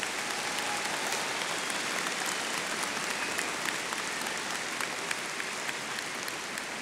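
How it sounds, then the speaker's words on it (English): A large university commencement audience claps in steady, dense applause, sustained and fairly even for several seconds like a broad wash of hands, with no speech over it. "Let's have a round of applause for them."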